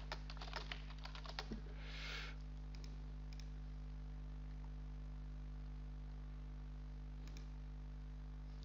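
Keyboard clicks while setting up Linux Ubuntu tools on a computer, a brief flurry of quick keystrokes early on, then sparse faint taps over a low steady electrical hum, no talking.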